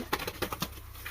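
A red-eyed male pigeon of a high-quality lotan breed gives a short run of soft, rhythmic coos, about five quick pulses close to the microphone.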